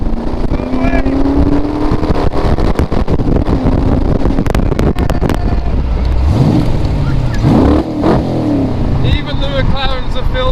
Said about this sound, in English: Oh my god, there's a huge convoy!